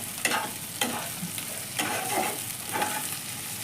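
Ginger paste and garlic fry in hot oil for a prawn dish, a continuous close sizzle with a few scraping spatula strokes stirring the pan.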